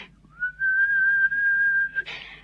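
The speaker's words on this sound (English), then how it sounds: "heard the faint answering whistles outside" A single shrill whistle rises and then holds a steady high pitch for over a second, loud and close, ending in a breathy rush.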